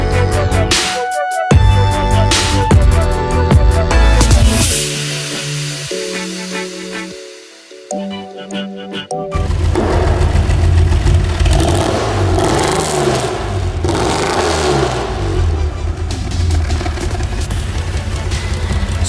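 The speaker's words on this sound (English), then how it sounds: "the exhaust sounds absolutely epic and looks so much better as well" Reliant Scimitar engine revving through a newly built custom exhaust, loud and close, with rising and falling throttle blips, a brief drop near the middle, then a sustained steady roar to the end; no talking.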